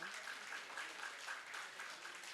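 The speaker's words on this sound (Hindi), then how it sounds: "इस परिवार के लिए तालियां मैं आपकी सुनना चाहता हूं।" An audience claps for a family at a public talk event, a dense, even round of applause that holds steady for about two seconds with no voices over it.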